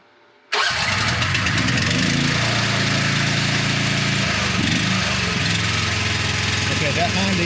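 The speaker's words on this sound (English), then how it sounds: "that Honda engine is absolutely smooth." A Honda engine on a MechMaxx Mec10 mini excavator starts abruptly after a brief quiet moment, then settles into a steady, smooth idle that stays loud and even throughout.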